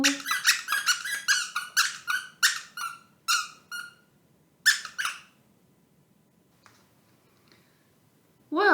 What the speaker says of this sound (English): very irritating squeaky squirrel